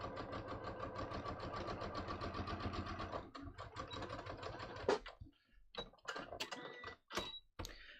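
A sewing machine stitches a drawstring hem on a tapered trouser leg: a rapid, even run of stitching for about three seconds stops, followed by scattered clicks and fabric-handling knocks.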